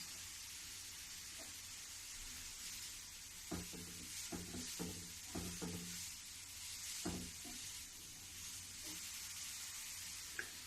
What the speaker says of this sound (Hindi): अब इसको मैं अच्छे से मिलाऊंगी। और धीमी गैस में इसको पकाऊंगी।